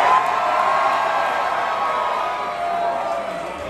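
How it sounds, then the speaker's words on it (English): A packed crowd at a death metal concert in the Mercury Ballroom, Louisville, raises a sustained roar of cheering and whooping. "So that's like five girls and the rest of a bunch of fucking dudes cheering"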